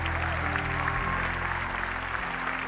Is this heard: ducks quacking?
no